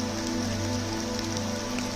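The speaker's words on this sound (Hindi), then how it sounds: "घने बादल छाए हुए हैं और तेज़ बारिश हो रही है" Heavy rain pours under thick clouds on the Rudranath trek in the Himalayan Panch Kedar region, a steady, dense hiss of drops on surfaces with no break or voices.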